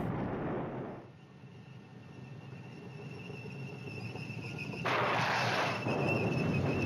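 Artillery bombardment in the wargame Flashpoint Campaigns: a rushing, distant-sounding blast fades into a quieter stretch before a fresh, brighter burst of explosive noise returns and holds, with no voices.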